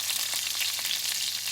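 Curry leaves and seeds sizzle in a hot pan while making upma, a continuous crackling fry with light popping, fairly close and steady, with no speech.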